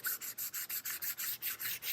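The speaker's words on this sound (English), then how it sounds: "As you sand, you can see your spots that need a little extra sanding on them" Steady back-and-forth scratching of sandpaper on wood coated with tung oil finish, about a dozen even strokes in a regular rhythm, close up with no voices.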